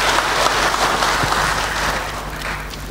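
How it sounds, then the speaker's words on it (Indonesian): Audience applause at a national seminar, a brief burst of dense, loud clapping that tapers off slightly. "Tepuk tangan buat kita semua."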